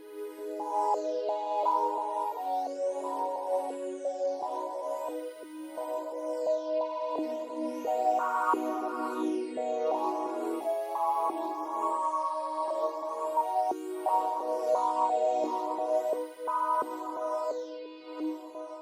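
A soft Casio CZ synthesizer pad preset plays a slowly shifting chord progression, with sweeping, whooshing upper tones rising and falling throughout.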